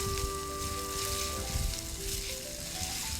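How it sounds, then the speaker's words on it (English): Garlic and prosciutto sizzle steadily in a pan while being stirred, a close, continuous frying hiss with soft scraping underneath. "to the prosciutto, I'm going to add the garlic. Stir that up a little bit"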